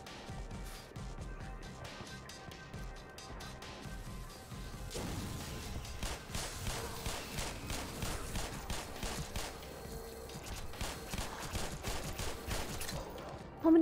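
Repeated gunfire in Black Mesa, the Half-Life recreation, a long run of shots mixed with crashes and impacts, fairly faint under game noise and carrying on for many seconds.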